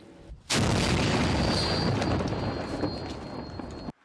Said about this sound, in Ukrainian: На цьому відео терористи гатять з артилерії.